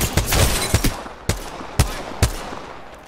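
Gunfire from an Apex Legends match: a quick cluster of sharp shots at first, then four or five separate, punchy reports spaced about half a second apart, close and loud.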